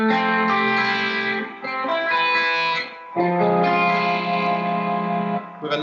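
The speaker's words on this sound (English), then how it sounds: "With a nice delay and long reverb tail, which is giving the section a more kind of ethereal and ambient feel." Sustained electric guitar chords run through a pitch shifter, delay and a long reverb tail, giving a lush, ethereal wash with smeared repeats; two brief dips mark chord changes, and no voices are present.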